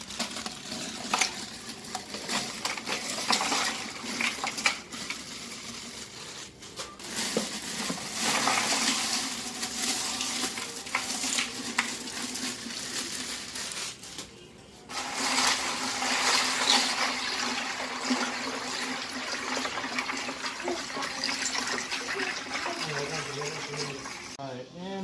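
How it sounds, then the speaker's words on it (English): About six pounds of ice poured into a pot of water for a turkey brine, a sustained sloshing, splashing wash with rattling clatter, briefly pausing midway before continuing. "we're just going to throw in about 6 pounds of ice"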